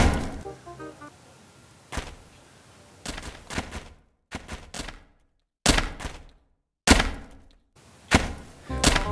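A snowman falling and breaking apart in the game Melon Playground, heard as a series of loud, close thunks and knocking impacts in irregular bursts separated by brief silences.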